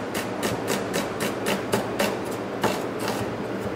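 A knife cuts thin slices of red capsicum on a board, making a brisk, steady run of close, crisp taps, about three strokes a second, with no talking.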